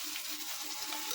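A ground masala paste for chicken kulambu sautés in a pan, giving a soft, continuous low sizzle that stays faint and even throughout.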